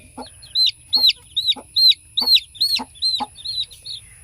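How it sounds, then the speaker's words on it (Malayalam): A young chicken calls in a regular series of about eight short, high chirping clucks, close and clear against a quiet background. "ഇതാണ് എനിക്ക് ഏറ്റവും ഇഷ്ടപ്പെട്ട കോഴിക്കുഞ്ഞ്"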